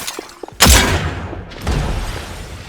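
Gunfire in the ARCADIA video game: two separate sharp, loud shots about a second apart, each with a brief echoing decay, close and without talk.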